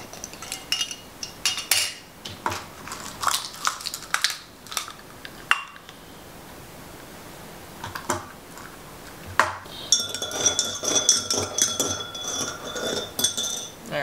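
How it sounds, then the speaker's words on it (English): A teaspoon clinks and taps against a cup while freeze-dried coffee is added, in scattered sharp metallic and glassy strikes with a quieter pause in the middle, close and alone. "Let's go ahead and add in 1/4 of a teaspoon onto this."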